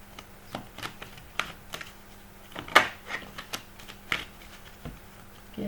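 Tarot cards are shuffled for a daily reading, a series of quiet, crisp riffles and taps at irregular intervals, close by, with one sharper snap near the middle and no talking.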